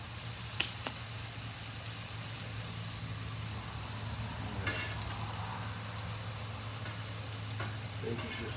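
Bacon sizzles on an outdoor barbecue grill beside burger patties, a steady faint hiss and crackle throughout with a couple of small ticks and clicks.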